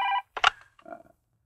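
A telephone gives one short electronic ring that stops quickly, followed by faint handling noises and soft sounds in near silence.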